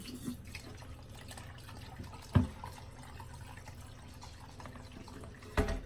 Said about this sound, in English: gonna hold this tube up over the sink at first so we get the flow back in, and plug this in